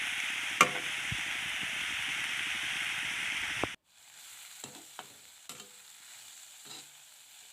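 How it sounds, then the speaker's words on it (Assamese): Pointed gourd pieces fry in a pan with a bright, continuous sizzle and occasional stirring knocks for several seconds, then the hiss drops sharply to a low simmer with sporadic soft clicks of a spatula. "এতিয়া ভাজি ল'লোঁ অলপ দেৰি।"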